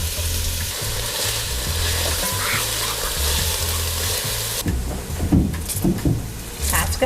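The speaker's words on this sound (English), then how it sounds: "now we're gonna get those onions going in, and then I'm gonna pop in the cabbage, and we're gonna saute these both over medium to high heat" Onions and cabbage sauté over medium to high heat with a loud, continuous sizzle. About two-thirds of the way through, the sizzle fades and a voice speaks over softer pan noise.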